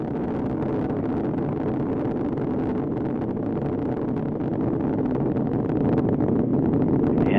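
Space Shuttle Atlantis main engines rumble during the STS-132 launch, heard from Titusville as a distant, steady, broadband roar that swells slightly toward the end.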